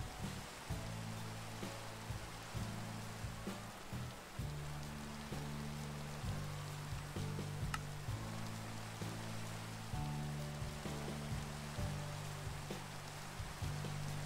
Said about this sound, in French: C'est de l'orage, ça. C'est pas une pluie normale.